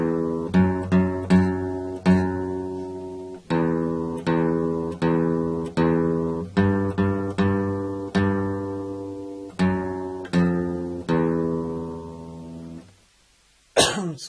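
An electric guitar plays a tune, plucked single notes low on the sixth string ringing in a steady rhythmic phrase, then a short pause and a brief cough near the end.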